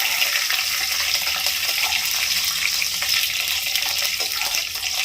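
Garlic frying in a pan for an amaranth-leaf dish, giving a steady, close, even sizzle with a bright hiss that runs without a break for the whole stretch.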